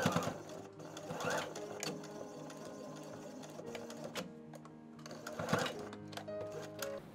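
Sewing machine stitching the sleeve of a blouson, a steady close mechanical whirring run that briefly speeds up and slows, with small clicks as the fabric is handled.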